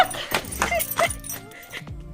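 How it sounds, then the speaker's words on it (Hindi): A dog named Jackie barks in a village in the hills in the morning, a few sharp yips and whimpering barks in quick bursts, close by, with a brief voice in the background. "और अभी आपने देखा जैकी भौंक रहा था।"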